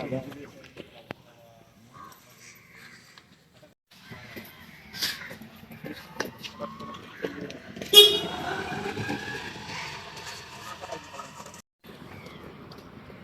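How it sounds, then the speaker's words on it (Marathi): A bus arrives on a cold morning roadside with several short vehicle horn toots. The loudest toot comes partway through, over faint engine rumble and footsteps, while people talk nearby. "भावाची आता गाडी आलेली आहे"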